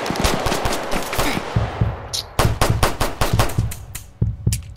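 Rapid bursts of video game gunfire from a gang-war shooter crackle loudly and nearly continuously, with dense repeated shots in a steady stream.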